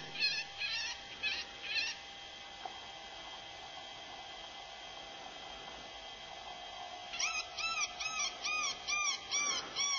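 Spitfire electronic game caller running at maximum volume while zipped inside its deployment bag, playing recorded animal calls in repeated bursts, cat-like wails at the start and end, heard from a distance under faint background hiss.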